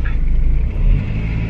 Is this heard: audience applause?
no